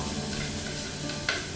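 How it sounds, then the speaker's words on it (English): Garlic dropped into hot oil for zucchini lasagna roll-ups gives a steady, close frying sizzle, with a brief louder crackle of spattering near the end. "I'm going to add the garlic in to our oil"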